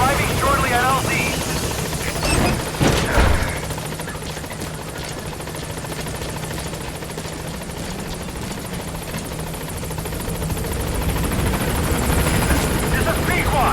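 Pequod helicopter from Metal Gear Solid 5 arriving at a landing zone, a steady loud rotor drone with low throb lasting throughout, and a brief burst of louder thumping early on.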